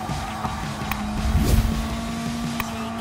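Subaru WRX racing engine in Gran Turismo 7 during a fast lap, a continuous loud engine drone with a swelling surge midway, no talk.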